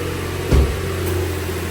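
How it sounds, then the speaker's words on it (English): A used car's engine turns over and catches, with a short burst of cranking and starting followed by a steady, low idle hum that stays close and even. "let's go ahead and start up this engine and see what it sounds like"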